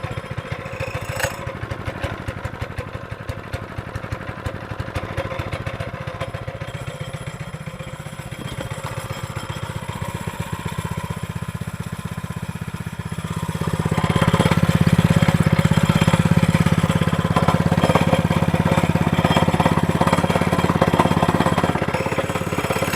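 A cheap small two-stroke engine, fitted with a new carburetor and a new pull-starter spring, cold-starts and runs alone with a steady buzzing drone that rises to a louder, rougher rev partway through.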